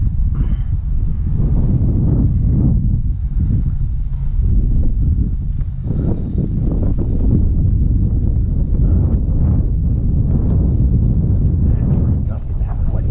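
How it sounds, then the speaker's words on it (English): Gusty north wind sweeps across an airfield taxiway, with heavy low buffeting on the microphone that rises and falls in uneven gusts; a muffled voice comes through at times. "It's pretty gusty, man. It's like blowing out of north here."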